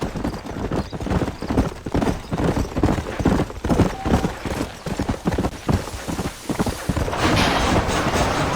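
Horses clip-clop along a town road in Red Dead Redemption, a steady rhythm of close, loud hoofbeats with rumbling game ambience, swelling into a broader wash near the end.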